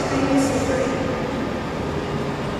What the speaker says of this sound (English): It's nice to see this train though, isn't it?